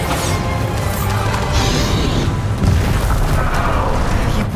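Bombarda spell explosion in the video game Hogwarts Legacy: a loud, dense booming blast with crashing debris over continuous in-game combat noise, close and sustained.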